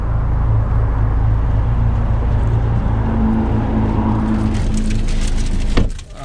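A 2020 Mercedes-AMG CLA 45 Coupe sends a steady loud low engine drone through the cabin as it idles and rolls off, ending with a short clunk.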